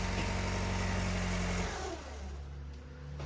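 A car engine idles close by with a steady low drone that drops and roughens partway through after ether cleaner is sprayed in, then settles into a quieter, less even idle.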